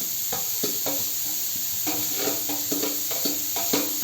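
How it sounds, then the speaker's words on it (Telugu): Grated amla (Indian gooseberry) is dry roasted in a pan without oil, giving a soft, steady sizzle broken by rhythmic scraping strokes of a spatula stirring it roughly every half second. "దీనిలో మనం ఈ ఉసిరికాయ తురుముకున్నాం కదా, దీన్ని వేయించేద్దాం."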